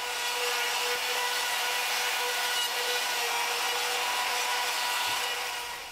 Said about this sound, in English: Now we got to do some edge routing.